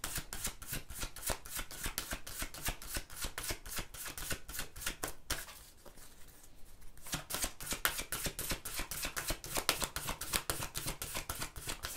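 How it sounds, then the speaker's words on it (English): Tarot cards being shuffled in quick, steady riffling bursts, with a brief pause partway through before the shuffling resumes; close and fairly quiet, with no talking. "some reason these cards don't like being shuffled that way, so there we go."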